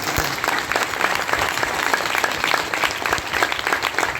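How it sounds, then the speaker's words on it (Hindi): A crowd claps at a Gita Jayanti religious gathering in a Delhi ashram, giving dense, continuous applause that stays loud and steady from start to finish. "ताली बजा दो"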